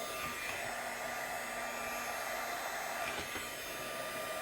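A heat tool blows steadily while gold embossing powder melts on vellum, a constant close whooshing hum of fan and hot air with no pauses or talk.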